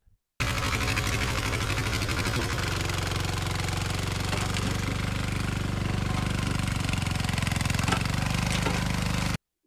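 Garuda mini weeder engine running in a dry field with a gauge wheel fitted, a loud, rapid, rattling single-cylinder chug that holds steady and close for several seconds.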